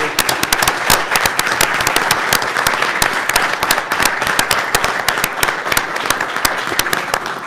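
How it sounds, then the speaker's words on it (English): Audience applause at a town council meeting, a steady dense wash of many hands clapping close by, sustained and even throughout with no talk over it. "Can we get a quick round of applause, please?"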